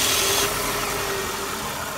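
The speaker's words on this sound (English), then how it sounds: "Now when I put the new starter in, it starts up just like it always has." A Toyota car engine catches on a newly fitted starter, giving a brief louder burst before settling into a steady, close idle hum.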